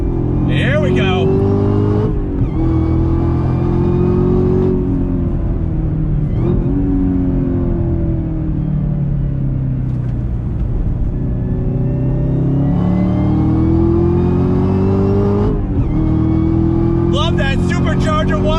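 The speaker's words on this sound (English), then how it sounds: "Love that supercharger" A 2020 Chevrolet Camaro ZL1 1LE accelerates hard, its supercharger whine rising over a loud, deep engine roar, with gear changes breaking the pull and a person speaking over it.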